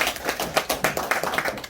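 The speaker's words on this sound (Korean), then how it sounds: "격려 감사의 박수 한번 더 부탁합니다." Brief applause at a forum honouring April 19 Revolution leaders, a small group of hands clapping in quick, uneven bursts, fairly close and short-lived.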